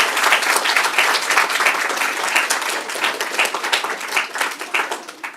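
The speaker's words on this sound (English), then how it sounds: "Round of applause, please." An audience at a hackathon Q&A event applauds, dense continuous clapping close and loud for several seconds with no talking.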